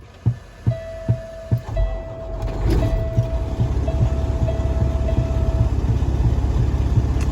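A 12.7 liter Detroit diesel in a 2015 Kenworth Icon 900 glider kit cranks with a few heavy thumps, then fires and settles into a steady, loud, rumbling idle.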